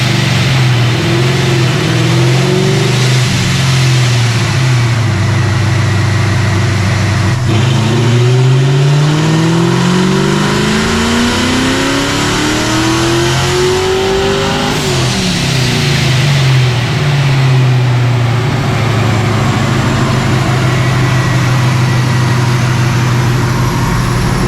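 A built, supercharged 2V Ford Mustang engine on a chassis dyno revs hard and loud, climbing and falling through several long pulls with a sustained roar and no talk over it.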